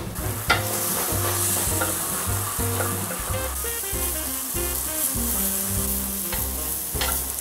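Ripe durian sizzles on a grill, a continuous crackling hiss running beneath rhythmic background music throughout.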